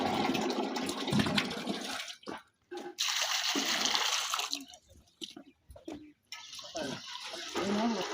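Dissolved gram flour liquid poured into a drum for a farm mixture makes a gushing, splashing pour in several bursts separated by short pauses, with a voice speaking between the pours.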